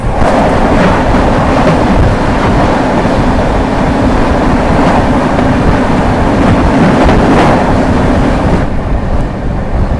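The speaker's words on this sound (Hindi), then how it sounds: "सामने से आती हुई चंडीगढ़ प्रयागराज संगम ऊंचाहार एक्सप्रेस।" Chandigarh–Prayagraj Sangam Unchahar Express passenger train rolling past at close range, a loud continuous rumble and clatter of wheels and wind that holds steady for the whole stretch, easing slightly near the end.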